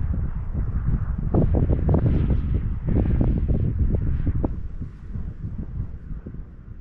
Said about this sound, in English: Because this wind is no joke.